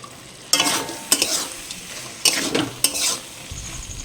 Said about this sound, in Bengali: এবার এর মধ্যে ধুয়ে ভিজিয়ে রাখা সাবুটা দিয়ে দেবো।